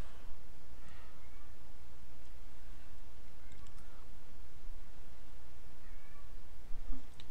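Cat meowing, several faint short mews scattered across the stretch over a steady background noise, with no talking.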